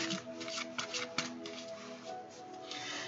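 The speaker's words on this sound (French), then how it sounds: "Je vais te sortir une carte d'énergie." Oracle card drawn from an energy card deck during a Bach flower guidance reading, with soft papery shuffling and sliding of cards, close and quiet, a few small rustles and taps.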